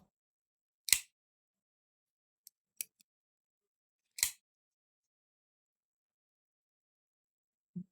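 A CIVIVI Baby Banter 2 folding knife gives a few crisp, isolated clicks as it is opened and closed, sharp and close in an otherwise quiet room.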